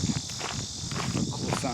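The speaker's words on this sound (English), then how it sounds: "Some more bugs, more August bugs." Insects and crickets chirp steadily through an August afternoon on a suburban creek trail lined with purple flowers, a continuous high buzzing bed with faint footsteps and rustle beneath it.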